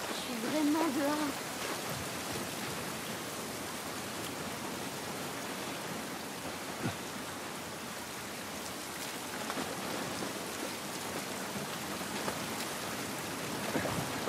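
Steady rain hisses evenly throughout in the video game The Last of Us Part I, a dense wash of falling water with a few brief tones and faint voices near the start.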